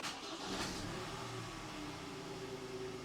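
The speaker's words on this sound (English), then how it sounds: "I'll start the vehicle up." A 2020 Ford Ranger 2.0 diesel engine starting up after a service light reset: a short cranking burst settles into a steady, low idling rumble with a faint tonal hum, heard close and alone without talk.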